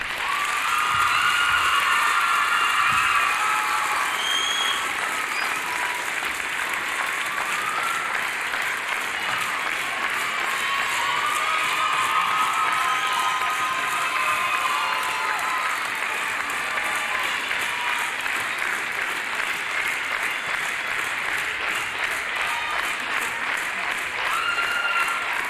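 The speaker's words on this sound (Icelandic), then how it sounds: "Klappa þau." Sustained audience applause at a school music competition in Iceland as groups come up on stage, a steady wash of many clapping hands heard close and evenly for the whole stretch, with scattered cheers.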